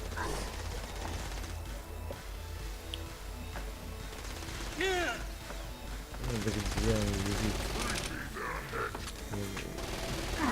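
Gunfire in the video game Saints Row: Gat out of Hell, bursts of rapid shots with mechanical clatter mixed with game music and voice chatter throughout.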